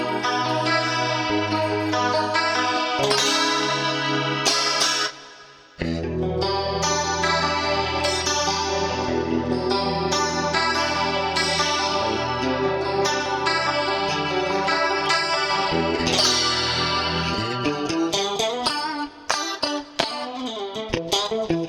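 Clean electric guitar plays 1980s-style chords and picked notes through tri-chorus and Lexicon 480L-style hall reverb, a shimmering, wavering chorus and a roomy reverb tail, loud and continuous.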